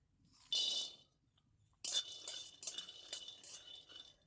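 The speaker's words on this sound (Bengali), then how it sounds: "এবারে আমি বাদামটাও ভেজে নেব হালকা করে" Peanuts being lightly roasted in a pan, heard as close metallic clinks and scraping of a utensil stirring against the pan in short bursts, with a pause between and no talking.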